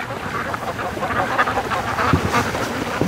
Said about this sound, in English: Doug, why do you have to chase the Muscovies off the dock?